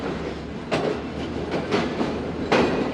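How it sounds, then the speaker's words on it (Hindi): The 28 Down Shalimar Express rolls into Rohri Junction with a steady low rumble and rhythmic clickety-clack bursts from the wheels passing over rail joints, heard close and continuous. "28 डाउन शालीमार एक्सप्रेस इंटर हो रही है रोड़ी जंक्शन"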